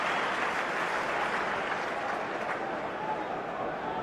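Football crowd at a Chelsea vs West Ham Premier League match, 2002/03, a broad sustained cheer and roar from a large stadium audience, steady throughout, distant and washy.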